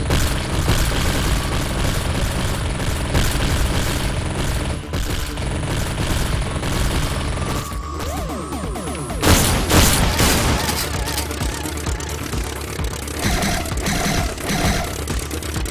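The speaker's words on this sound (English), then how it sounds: "let's just see the EVP missiles real quick" Dense, continuous barrage of EVP missile fire and explosions in the indie shoot-'em-up video game Skycurser, loud and relentless, with rapid booms, whooshing sweeps and a brief sharp burst partway through.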